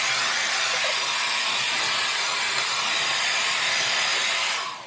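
A hair dryer rough-dries hair with a loud, steady, close roaring blow that runs continuously, its airflow shifting slightly as it moves, then cuts off at the very end, with no talking.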